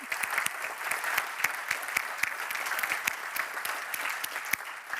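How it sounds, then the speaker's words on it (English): Conference audience at an opening plenary applauding steadily, dense sustained clapping from a large crowd heard at a moderate distance, with no talk over it. "I just wanted to ask you to join me in a big applause for Daniel."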